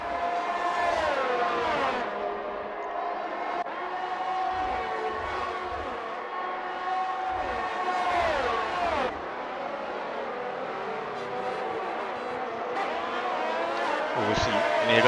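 Formula 1 race cars at the Italian Grand Prix in F1 2021, engines screaming continuously with rising and falling revs and gear shifts, loud and close, with commentary talking over the top.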